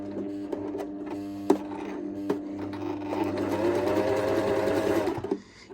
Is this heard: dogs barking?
no